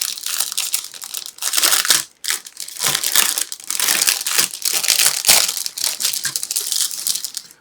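Plastic bags from a Platz 1/72 Fuji T-1B model kit crinkle and crunch as they are opened, in close, loud bursts of rustling with a brief pause near the two-second mark.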